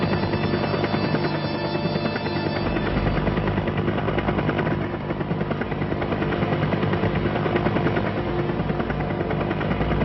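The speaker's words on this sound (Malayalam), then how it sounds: "ഹെലികോപ്റ്റർ ഉപയോഗിച്ച് തോട്ടങ്ങൾക്കുമേലെ എൻഡോസൾഫാൻ വിതറുന്നു" A helicopter flying over plantations while spraying endosulfan pesticide, a loud continuous rotor thrum with a steady chopping pulse that holds for the whole stretch, with no voices.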